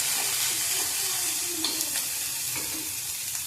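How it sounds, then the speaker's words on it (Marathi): Oil and masala ingredients for shahi paneer fry in a pan until golden, a loud, close, steady sizzle with a few light stirring scrapes and small pops throughout, no voices. "तेल थोडं गोल्डन कलर येईपर्यंत भाजून घ्यायचं।"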